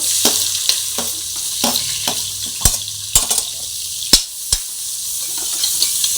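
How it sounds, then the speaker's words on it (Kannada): Onions and green chillies fry in hot oil with garam masala, a steady close sizzle broken by sharp clicks and scrapes of a spoon stirring against the pan. "ಇದು ಸ್ವಲ್ಪ ಕೆಂಪಾಗಿ ಫ್ರೈ ಆಗಬೇಕು"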